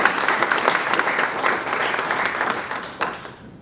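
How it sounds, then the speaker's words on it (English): An audience at a regional poetry recitation finals applauds, giving dense sustained clapping that gradually fades out near the end. "Let's give one more round of applause for"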